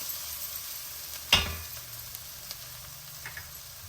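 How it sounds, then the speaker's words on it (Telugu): Tomato puree drops into a hot pan with a sudden sizzle that fades into a faint hiss and soft stirring scrapes, all quiet and close. "మన టమాటా ప్యూరీ ఇప్పుడు వేసేద్దాం"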